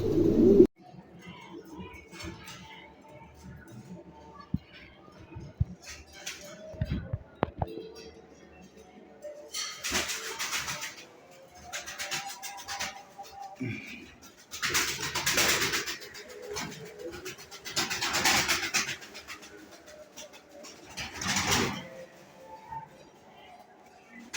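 Pigeons for sale in a pigeon shop coo repeatedly in low, throaty bursts, with people talking intermittently over the birds.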